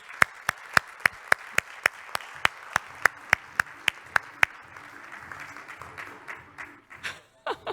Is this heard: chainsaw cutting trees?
no